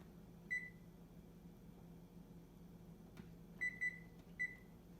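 A kitchen oven timer beeps after a brownie bake, one short tone followed later by a quick cluster of three beeps, clear and close over a low steady hum with no talking.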